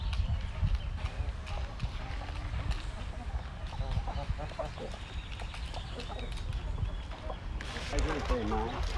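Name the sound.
giant Indian game rooster and chickens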